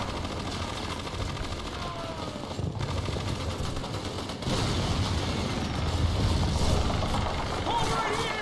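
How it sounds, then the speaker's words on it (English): Continuous battle noise from Call of Duty 2's Rangers Lead the Way mission, with steady gunfire and engine rumble in a dense, loud wash that swells louder midway. "We're getting like shot at."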